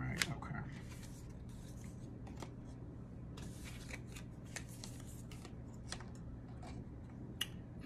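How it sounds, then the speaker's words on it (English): A deck of cards is shuffled by hand: scattered crisp riffling clicks and flicks over a low steady hum, quiet and close, with no one talking. "I'm going to shuffle it up."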